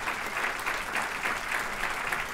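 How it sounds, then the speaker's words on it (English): An audience at a State of the Region event applauding the mayor of Torrance, a steady sustained clapping from a roomful of people at moderate distance, with no voices over it. "Give him a big round of applause."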